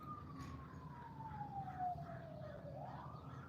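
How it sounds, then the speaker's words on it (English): Emergency vehicle sirens wail in the distance, one long falling tone that then starts rising again, faint over a low background rumble. "Y'all hear the sirens?"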